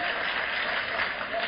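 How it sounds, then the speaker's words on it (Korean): Students and professors applauding at a commencement speech, dense sustained clapping filling the whole moment at close, even loudness. "뒤에 앉아있는 교수들도 막 웃으면서 박수 쳐요."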